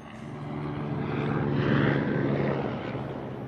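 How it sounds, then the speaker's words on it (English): A helicopter drones overhead, its rotor noise swelling as it passes and fading slightly, steady and moderately loud with no voices. "Helicopter."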